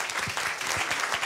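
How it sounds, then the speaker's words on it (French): Applause at a literary prize ceremony for the publisher Anne Carrière, a steady, moderately loud crowd of hands clapping continuously without speech. "J'aimerais vraiment qu'on la salue et qu'on l'applaudisse"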